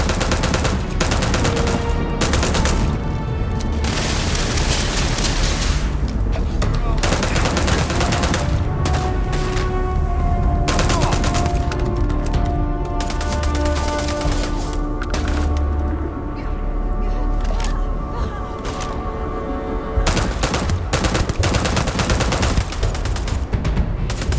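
Sustained, dense gunfire from Starfield combat fills the whole stretch, with rapid bursts and heavy booms layered over a game soundtrack, loud and continuous.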